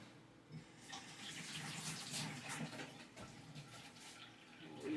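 A kitchen tap runs water into a sink for washing up after cracking eggs, a steady soft hiss and splash that swells slightly toward the end, fairly faint and heard alone.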